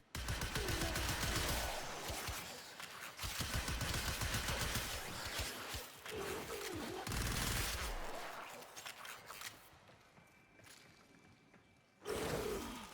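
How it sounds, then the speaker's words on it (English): Cyanex secondary fire in Warframe dumping the rest of the magazine in a rapid burst, loud clattering volleys of shots with sharp projectile impacts, repeated in several bursts across the clip, ending after a quieter stretch with one more loud blast. "the secondary or burst fire fires out the rest of your magazine in a rapid, burst"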